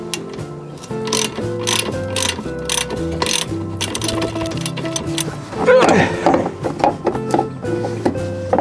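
A ratchet wrench clicks steadily while loosening the rear shock absorber bolts on a second-generation Honda CR-V during a home repair without a lift, heard under continuous background music with a louder burst of rattling midway.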